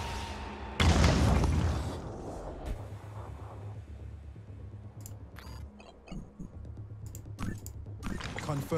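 A ceiling blasted apart by an explosion in Phoenix Point, heard as one loud broadband boom near the start that decays over about a second, followed by quieter game ambience and small clicks.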